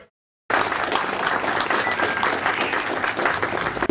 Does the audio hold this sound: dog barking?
no